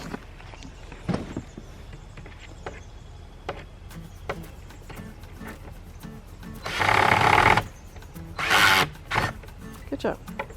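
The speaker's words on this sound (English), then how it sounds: "you want to drill it in?" A power drill drives screws into wood while building a chicken coop, with two distinct buzzing bursts of a few seconds each, amid clicks, handling knocks and quiet talk.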